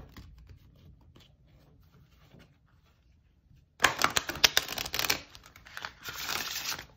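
An oracle card deck is shuffled by hand after a quiet pause, producing a sudden burst of close, crisp riffling and flapping card noise that carries on for the last few seconds.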